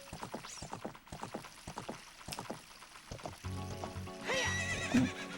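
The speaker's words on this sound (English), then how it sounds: "is he just slapping the horse on the butt with a carrot?" A horse whinnies with a rising, wavering call near the end, heard in the video game The Legend of Zelda: Ocarina of Time, following a run of quick hoof clops and light clattering effects.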